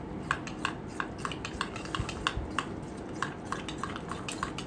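Gram flour, curd and turmeric are mixed in a bowl, making a steady run of soft rhythmic clicks and scrapes as the spoon strikes the bowl again and again, close up and moderately quiet.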